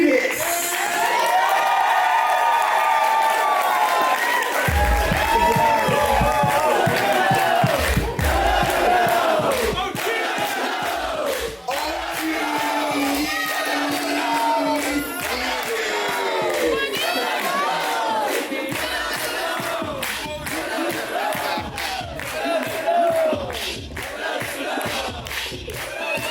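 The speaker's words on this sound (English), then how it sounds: "give a round of applause for them as well." A large crowd at an awards ceremony cheers, whoops and shouts loudly and continuously, with some clapping mixed into the roar.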